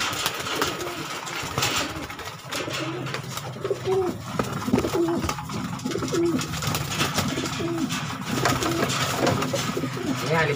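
Pigeons in a cage cooing before release, repeated soft coos over a steady engine-like drone, fairly close and continuous throughout.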